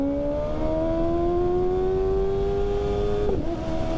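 Engine of a Kawasaki ZX-6R 636 sport motorcycle droning steadily as it rises slowly in pitch, then dips abruptly with a gear shift near the end, loud and up close under continuous wind rush.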